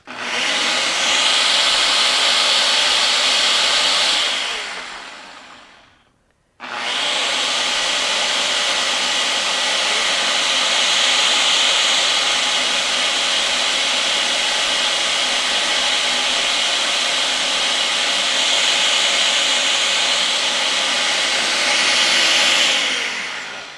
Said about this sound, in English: Just depending on how powerful your spice grinder is, you may have to do it longer than this.